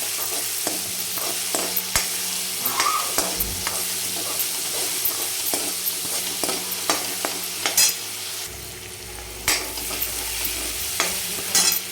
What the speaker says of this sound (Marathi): ती हिरवी मिरची आणि लसणाचा जो ठेचा करून घेतला आहे जाडसर आपण तो टाकून घेऊ आणि त्याला पण एक मिनिटभर परतून घेऊ